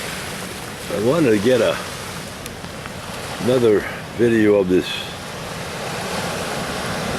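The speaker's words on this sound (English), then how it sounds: "The sound you're hearing is the Pacific Ocean roaring." Pacific Ocean surf roars steadily along the shore at Brookings, Oregon, a continuous broad wash of breaking waves with some wind noise, while a person talks over it in short bursts.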